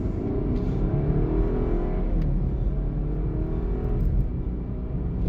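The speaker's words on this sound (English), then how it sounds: "You can hear it because the BMW is in Sport Plus mode." A BMW in Sport Plus mode accelerates with a steady, loud engine drone and rising harmonic tones heard from inside the car, with no talk.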